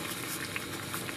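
Water boils vigorously in a pot on a stove, a dense, steady bubbling and rumbling that carries evenly throughout, close and fairly loud with no voices.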